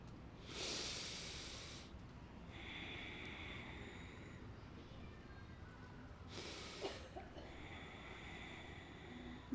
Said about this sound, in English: 3 deep breaths on your own